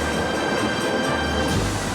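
A Swiss alpine railway train travels near Davos through open parkland, with a continuous close rumble and wheel noise plus a faint steady squeal, heard alone.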